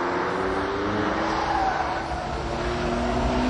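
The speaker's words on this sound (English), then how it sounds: "in fourth gear, we're already up to 140 before we need to brake heavily down into this tight chicane" Jaguar XJ220 sports car pulling hard in fourth gear on a track, a loud, steady engine roar with rising tone, continuous and close with no talk.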